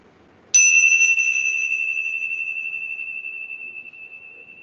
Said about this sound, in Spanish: primero van a anclar su atención al sonido de la campana